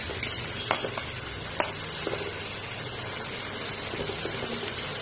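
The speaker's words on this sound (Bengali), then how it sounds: "কুচনো পেঁয়াজ, কুচনো লঙ্কা, এগুলো দিয়ে একটু ভেজে নিচ্ছি।" Chopped onion and chilies frying in a pan give a steady close sizzle with a few sharp clinks of a utensil against the pan, no voices over it.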